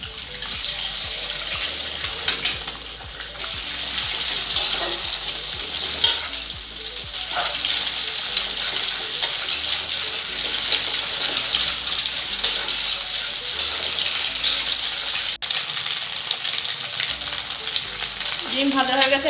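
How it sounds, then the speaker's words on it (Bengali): An egg fries in a pan for vegetable noodles, a loud, continuous spitting sizzle that holds steady throughout, with intermittent stirring and scraping sounds up close. "এবার আমি ডিমটা দিয়ে দেব।"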